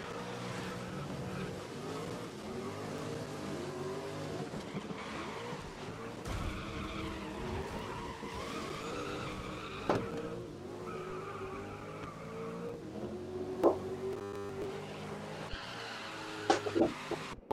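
Racing cars driven on a wet track in the rain in the 2019 Grid video game, including a Ford, with steady engine drone and tire hiss, occasional skid squeals and impacts late on, under continuous game music.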